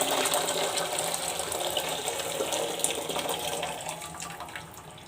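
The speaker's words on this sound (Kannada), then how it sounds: "ಅದನ್ನು ನಾನು ಈಗ ದಪ್ಪ ತಳ ಇರೋವಂಥ ಪಾತ್ರೆಗೆ ಬಿಸಿ ನೀರನ್ನ ಆ್ಯಡ್ ಮಾಡ್ಕೊತೀನಿ." Hot water pours steadily into a heavy-bottomed cooking pot with a continuous splashing gush that eases off toward the end, close up and without talk.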